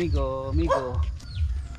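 A dog yips and barks playfully at close range in a Filipino home setting, short harmonic bursts mixed with a person talking throughout.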